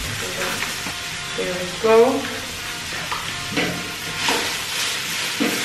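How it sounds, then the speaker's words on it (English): Tomatoes and spices sautéing in a pan for dal, with garam masala and sambar masala, giving a steady sizzle and hiss broken by stirring scrapes, with a voice speaking briefly over it. "Saute until the tomatoes go to mush."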